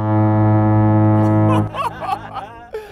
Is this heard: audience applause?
no